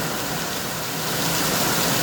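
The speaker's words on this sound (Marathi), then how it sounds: "सध्याला पाऊस एवढं जोरत आहे वारा वादळ पाऊस" Heavy night rain driven by strong wind in Solapur district, a dense steady roar with no pauses and no voices, loud and close throughout.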